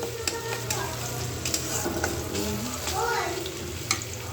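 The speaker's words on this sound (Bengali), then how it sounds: "কড়াইতে তেল দিয়ে এখন এই যে পেঁয়াজটা ভাইজা নিতেছি" Onions frying in oil in a wok while biryani is being prepared, a steady close sizzle with occasional scraping stir clicks, continuous throughout.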